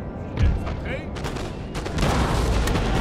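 Musket volleys and artillery fire in the Napoleon Total War video game battle, dense crackling fusillades and booms building louder toward the end, with faint voices mixed in.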